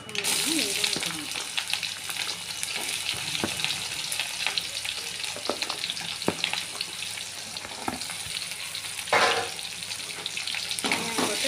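Onions sautéing in hot oil for a restaurant-style chicken curry, a steady close sizzle with scattered utensil scrapes and a brief louder burst near the end, no talking.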